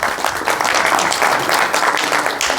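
An audience at a village devotional jagran gathering applauds to welcome generous donors, a dense, steady wash of many hands clapping at close range that runs the whole time without pause.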